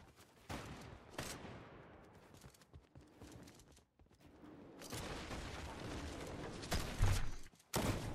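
Gunshots in the video game Fortnite come as sharp, loud bursts, a quick fusillade of cracks and booms with brief pauses between volleys, followed by sustained rumbling noise.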